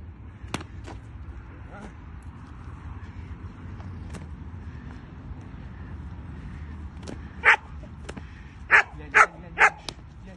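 A dog barks during protection training outdoors, with scattered single barks early and then a tight burst of four loud barks near the end, over low background rumble and occasional voices.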